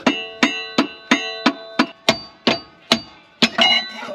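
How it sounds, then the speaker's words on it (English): About ten sharp metallic hammer strikes ring out at a steady rhythm, close and loud, each blow leaving a brief ringing tail, as a hammer knocks out a bearing during an Audi A5 3.0 TDI V6 clutch replacement. "I can get a hammer or a mallet and just knock this out"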